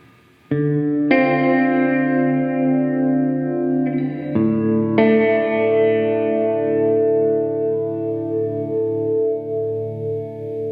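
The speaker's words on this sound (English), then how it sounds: "First, there's a standard plate reverb" Sustained guitar chords ring out through a Hardwire Supernatural pedal on its standard plate reverb setting, each strum blooming into a long, smooth tail that fades slowly.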